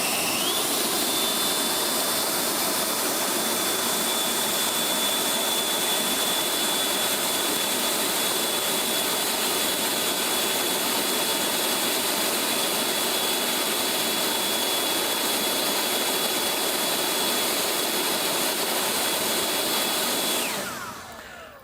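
A Greenworks 60V leaf blower running on high gives a steady, loud, close whooshing roar with a thin whine on top, holding unbroken for about twenty seconds before abruptly cutting off.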